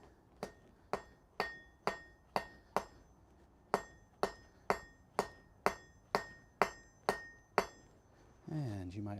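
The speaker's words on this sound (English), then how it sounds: "So let's go ahead and grab my needle hammer" A needle hammer strikes hot 1/4 inch steel stock on an anvil while forging a taper, giving fourteen sharp, ringing metallic blows in a steady rhythm, with a brief pause midway and a rougher scraping noise at the end.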